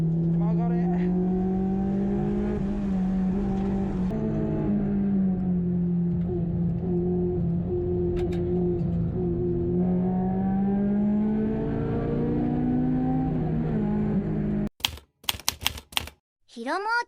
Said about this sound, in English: drive my S2000 on racetrack